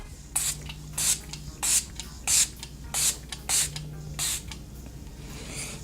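A setting spray bottle mists onto a face in a quick series of about eight short, evenly spaced spritzes, close and crisp, with no talking.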